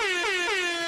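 A loud, blaring air horn sounds in quick repeated blasts, each one dipping slightly in pitch.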